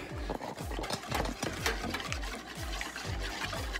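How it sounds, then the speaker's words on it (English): Cupcake batter whisked by hand in a bowl, a close, continuous wet rhythmic slapping and clicking at a quick steady pace, with no voices over it. "Whisk till smooth."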